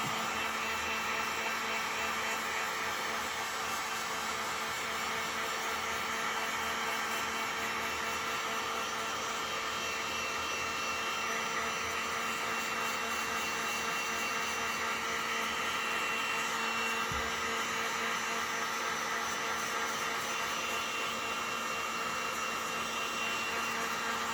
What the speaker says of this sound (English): take the heat gun, just a Harbor Freight cheapie, and I am going to warm this frame up